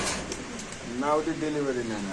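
Racer pigeons coo in cages at a market, a low rolling coo rising near by with someone talking over it.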